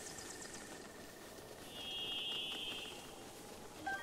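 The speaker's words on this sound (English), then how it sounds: "What's that beeping noise?" A quiet, thin electronic beep tone sounds for about a second over faint background noise in The Legend of Zelda: Breath of the Wild.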